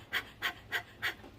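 A person imitates a dog's panting with four quick, breathy exhalations in a steady rhythm, each a short airy puff, close and alone with no other sound around them.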